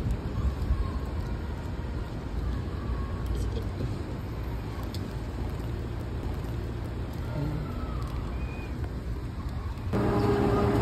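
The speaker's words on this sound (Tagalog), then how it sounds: "Umuulan na talaga" Rain falling during a thunderstorm, a steady hiss of drops on surfaces and a wet road with low rumbling underneath, continuous throughout and briefly louder near the end.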